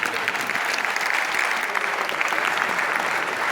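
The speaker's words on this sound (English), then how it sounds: "Another round of applause" An audience at a public presentation breaks into sustained, even applause after a speech, a thick continuous patter of many hands clapping without a break.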